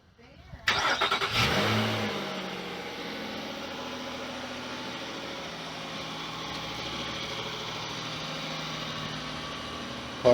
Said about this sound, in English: Car should turn on.